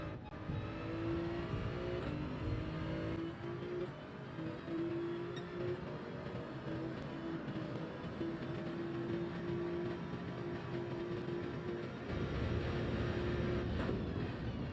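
A race car in Gran Turismo 7 drives the Asia Circuit, its engine holding a steady droning tone with shifting pitch and a louder surge near the end, alone without talk.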